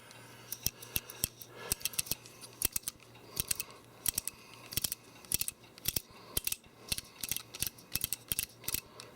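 A Heathkit coax switch, freshly cleaned with Deoxit, is turned over and over, giving sharp, crisp mechanical clicks in quick irregular bursts, close up and with no talking.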